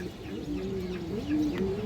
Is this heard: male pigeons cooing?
yes